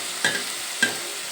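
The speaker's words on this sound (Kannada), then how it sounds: "ಉಪ್ಪು ಹಾಕಾದ್ಮೇಲೆ ಹಾಗೇ ಟೊಮೊಟೊ ಹಾಕ್ಕೊತಾ ಇದ್ದೀನಿ ಲಾಸ್ಟಲ್ಲಿ." Chicken frying in a pan with tomatoes added for a natti-style chicken biryani masala, heard as two short scraping stirs with a brief sizzle about half a second apart, close and moderately quiet.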